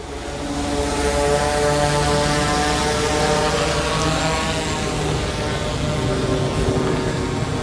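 A delivery drone lifts off with a loud, steady propeller drone and layered buzzing tones that swell in at the start and hold close and constant to the end.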